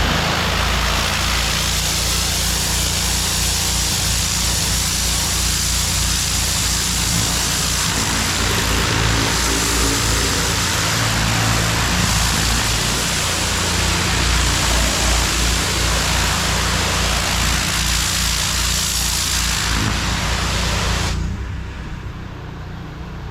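Pressure washer fitted with a turbo nozzle blasting a pool surface, a loud, steady roaring hiss mixed with a droning engine, continuous and close, ending with a sudden drop as the spray stops.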